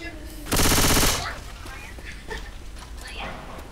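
Burst of rapid automatic gunfire in the zombie shooter Left 4 Dead 2, a loud half-second rattle followed by fainter game noise and scattered distant shots.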